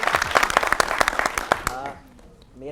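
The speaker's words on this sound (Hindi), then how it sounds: "जोरदार तालियां शहरीन के लिए।" Debate-show audience gives a burst of brisk, loud clapping that stops abruptly after about a second and a half, followed by a voice beginning to speak.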